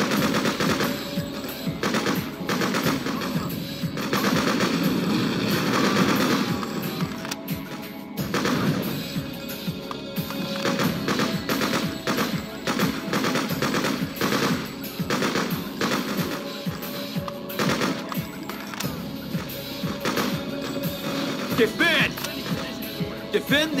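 Sustained automatic gunfire and scattered shots in the video game Freedom Fighters, loud and continuous through the whole stretch, with bursts overlapping and brief lulls, while a voice calls out over the combat.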